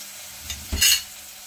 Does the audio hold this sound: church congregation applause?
no